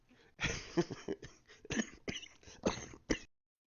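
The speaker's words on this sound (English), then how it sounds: "I went into a mild coughing fit." A mild coughing fit: a rapid series of harsh coughs and throat-clearing bursts, close and fairly loud, with no talking.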